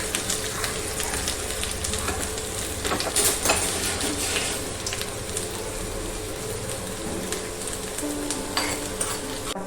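Cumin seeds and a few mustard seeds crackle and splutter in hot oil in a pan, a steady dense sizzle with scattered pops and occasional utensil clinks, close and fairly loud with no talk.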